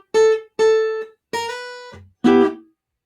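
Clean guitar picks out the opening melody phrase of a swing standard in G, four distinct separated notes with the last one sliding, close and alone.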